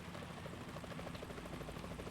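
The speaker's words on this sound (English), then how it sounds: "The chopper." A helicopter in the video game Metal Gear Solid 2 gives a faint, steady, pulsing rotor chop running for about two seconds.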